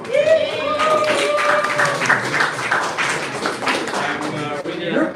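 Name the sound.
audience round of applause for a presenter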